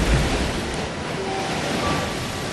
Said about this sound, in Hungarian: Egy sziklára kapaszkodnak, miközben hatalmas hullámok csapnak át felettük.